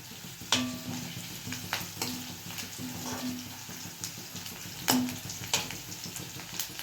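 Onions browning in a pan for home-made pulao, with a steady soft sizzle underneath and intermittent stirring scrapes and clinks of a spoon against the pan, close and fairly quiet.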